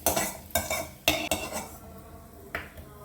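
A spoon scoops fried browned onions and oil out of a pan, producing several sharp metallic scrapes and clinks with a soft sizzle between them, and no talking.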